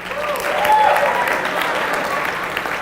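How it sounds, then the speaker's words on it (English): An audience of Grace University students applauds at a school-year kickoff event, a full, fairly loud burst of clapping with some crowd noise mixed in. "Grace University, why don't you give yourselves a round of applause?"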